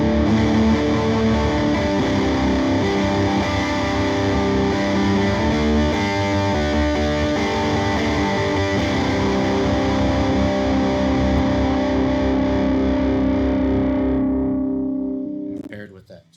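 A Starcaster electric guitar strums full open chords through a tube amp, heavily driven with distortion and effects. The sound is loud and continuous for about fifteen seconds, then cuts off and trails away at the end.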